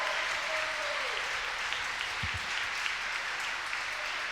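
A crowd applauds warmly and without pause after Great Britain beat Slovakia in the BC1/BC2 boccia team final at the 2015 Boccia Europeans, with a brief thump partway through.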